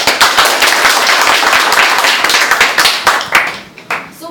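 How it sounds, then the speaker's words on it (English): A classroom of students gives their teacher a big round of applause, loud dense clapping that carries on steadily before tapering off at the end. "big round of applause for him"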